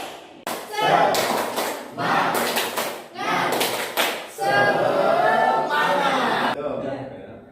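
A group at an Indonesian discussion session doing a rhythmic spirit clap, bursts of clapping and thumps in a patterned sequence, with voices chanting and laughing between the claps, close and fairly loud.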